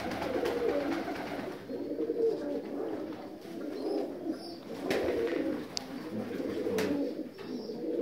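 North Caucasian fighting pigeons coo steadily in an aviary, a dense, low murmuring chorus of several birds running throughout, fairly close, with a few faint higher chirps overhead.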